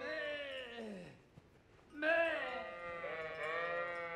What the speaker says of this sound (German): Wir vertreiben mal die Schafe.